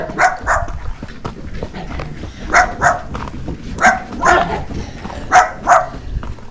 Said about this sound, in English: So, dogs are fighting.